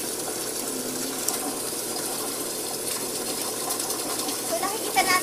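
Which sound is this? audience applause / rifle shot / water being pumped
water being pumped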